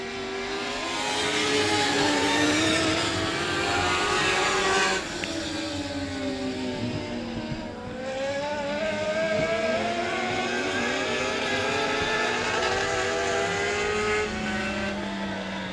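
Dirt Car Mod Lights race cars roar around the 67 Speedway of Texarkana oval during a heat race, engines droning loud and continuous with rising and falling pitch as the pack passes and accelerates.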